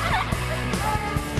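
A wild turkey in California gobbles in a quick, rattling burst, fairly close and clear against outdoor background noise, with no talking.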